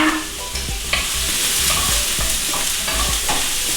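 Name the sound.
onion sizzling and being stirred in a hot pan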